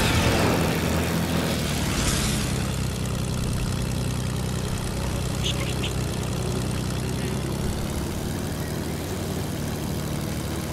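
Helicopter flying in a mobile shooter video game, a continuous loud rotor and engine drone that holds steady throughout, with no talking.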